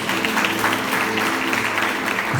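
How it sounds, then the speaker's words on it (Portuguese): Congregation applauding during a Portuguese-language church service, a dense, steady burst of many hands clapping together throughout, loud and close with crowd noise mixed in. "Percebe se é Deus com as palmas de vitória?"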